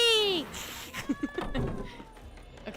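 A cat in The Witcher 3 gives a short meow near the start, a gliding high cry followed by softer game sounds and faint background chatter.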